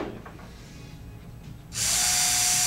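A power drill bores through wood during a model aircraft aileron build, starting abruptly after a quiet stretch and running loud and steady to the end.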